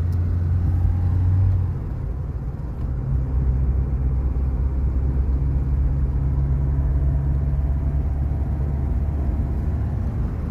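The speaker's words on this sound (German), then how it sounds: "Wie man sieht, machen wir mal eine kleine Probefahrt." An old car, close to 30 years of age and with a completely worn-out clutch, drives steadily on a short test drive, its engine a continuous low rumble heard from inside the cabin with no talking.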